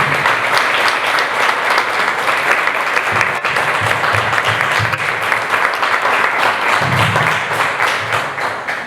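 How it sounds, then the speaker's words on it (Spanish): Loud, sustained applause from an audience at a diabetes gastronomy event, steady dense clapping that fills the whole stretch without letting up. "Un aplauso muy fuerte para..."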